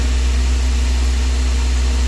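A Daihatsu Gran Max engine idles steadily after being restarted, a continuous low hum with a faint mechanical whine, close and even throughout with no talk.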